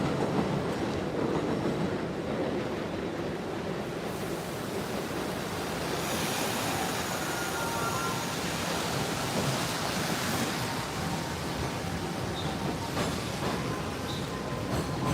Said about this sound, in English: I'll do the impression once these trains leave, because it's pretty loud.